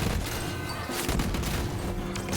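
Grenade blast in a video game, a loud, continuous roar of explosive noise with crackling bursts that stays dense and even throughout.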